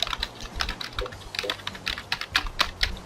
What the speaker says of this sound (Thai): เสียงคีย์บอร์ดผมอาจจะดัง